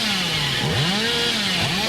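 Chainsaw revving in Dead by Daylight, a continuous buzzing motor whine with rising and falling pitch sweeps, loud and steady throughout with no talking.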